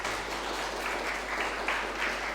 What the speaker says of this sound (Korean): 황현모 감독님, 우리 박수로 환영하겠습니다